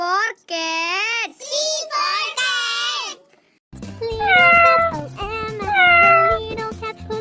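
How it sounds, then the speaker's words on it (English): Cartoon-style cat meowing in several drawn-out, rising and falling cries, loud and close, followed by more meows layered over a steady musical backing. "C for cat."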